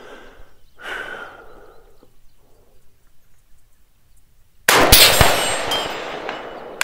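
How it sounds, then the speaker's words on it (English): A rifle with an FM barrel and 2X ACSS CQB-M5 scope fires a single loud, close shot at a 400-yard target on an outdoor range, after several seconds of quiet breathing and handling noise. "Let me quit talking and let's shoot."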